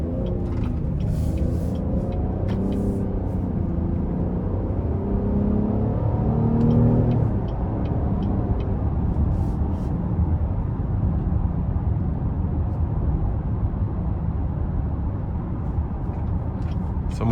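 Steady low engine and road rumble from inside the cabin of a 2025 Cadillac XT6 Premium Luxury AWD with its V6 while driving, continuous and even with no sharp revving.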